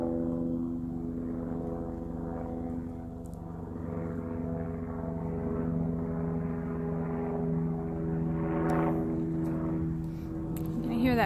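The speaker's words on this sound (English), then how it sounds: "Hear that plane overhead." Propeller plane passing overhead in open desert near the Yuma Proving Ground, Arizona, a steady droning engine hum that holds for the whole stretch, swelling slightly near the end.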